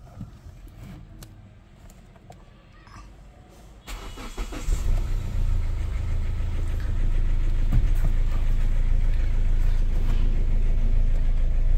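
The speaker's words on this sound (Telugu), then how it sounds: "అండ్ ఒకసారి ఇంజన్ కూడా స్టార్ట్ చేసి చూపిస్తానండి" A 2016 Hyundai Verna Fluidic SX diesel sits quietly, then its engine cranks and catches partway through, settling into a loud, steady diesel idle rumble that continues to the end.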